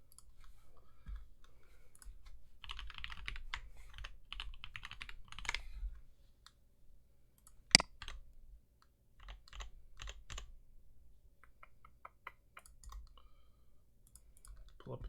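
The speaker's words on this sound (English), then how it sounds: "Pull up a typing test real quick." Clicky bursts of typing on a Percent Skog Lite mechanical keyboard, quiet and close, with quick key runs, pauses and one sharper clack midway.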